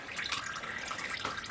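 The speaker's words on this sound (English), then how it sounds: "I think you can probably hear the oil draining out of there." Engine oil pours from the drain of a CJ5 Jeep engine, a steady liquid trickle and splash that runs continuously at moderate level with no talk.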